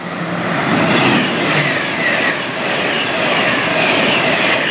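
A Class 800 Azuma train on the East Coast Main Line at Hatfield passes with a loud, steady roar of engine and rolling noise that swells slightly and holds for several seconds, with no talk.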